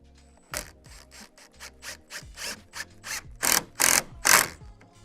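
A square-drive screw driven at an angle through a pre-drilled hole in the vertical support of a wooden garden frame, heard as a run of rasping, grinding bursts that grow louder and longer toward the end, close and without talk.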